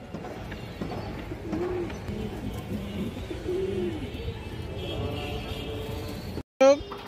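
A pair of large Kaldom pigeons coo in low, rolling bursts beneath someone talking throughout. The cooing is near and steady, and a brief sharp sound comes just before the end.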